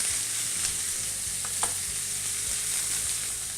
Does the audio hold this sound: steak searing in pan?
yes